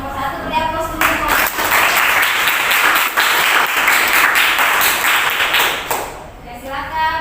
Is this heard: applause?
yes